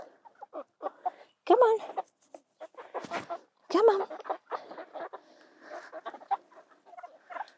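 Chicks and roosters cluck and chatter in short, uneven bursts on a small farm while a person calls out to them between the bird sounds.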